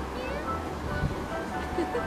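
A cartoon cat meows in a Pusheen animation, set against a steady background bed, while people talk over it.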